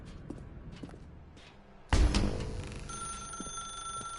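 An old telephone bell rings with a sharp, bright onset after quiet footsteps, then a steady high tone hangs on in The Stanley Parable Ultra Deluxe video game.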